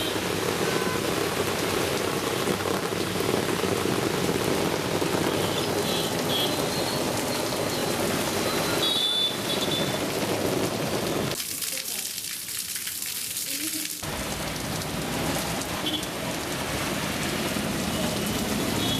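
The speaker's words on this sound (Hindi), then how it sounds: "शुरू हो गई जोरदार बारिश।" Heavy rain pours down steadily in Kherwara town in Udaipur district, a dense hiss that fills the whole stretch and briefly thins midway, with a voice speaking over it.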